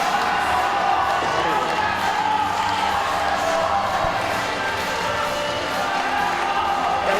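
Steady, loud crowd roar and cheering filling the arena throughout, urging on a climber during the men's and women's bouldering finals at the 2014 IFSC Climbing World Cup in Toronto.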